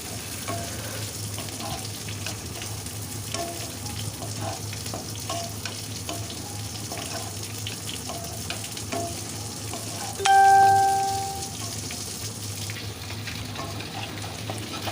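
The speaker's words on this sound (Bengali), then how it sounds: "নুন হলুদ দেওয়ার পর আবার কাঁকরোলটা ভালো করে মিশিয়ে নিচ্ছি" Spiny gourd cooked with salt and turmeric in a pan, stirred under a constant close sizzle with soft scraping strokes. A short bright metallic clink rings out partway through, and no voice is heard.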